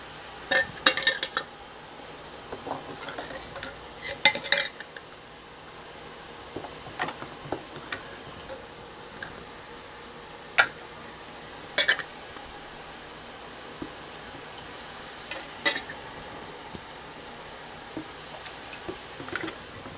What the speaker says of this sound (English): Now we have our hot lids. Pop them all on.